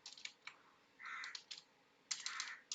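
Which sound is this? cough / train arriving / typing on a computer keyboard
typing on a computer keyboard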